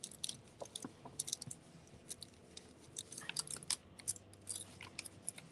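Stiff scissors snip paper for a flower craft, a few quiet crunching cuts scattered among soft rustles and small clicks, close and faint with no talking.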